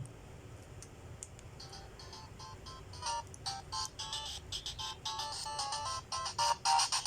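8-bit chiptune game music plays from a W1 mini handheld game console, a thin bright melody of short beeping notes in a quick rhythm that grows denser and louder toward the end, heard alone.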